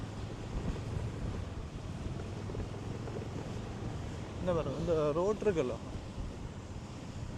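Rough sea surges against an eroded shoreline road, a continuous close roar of surf mixed with wind buffeting the microphone, while someone briefly speaks over it midway.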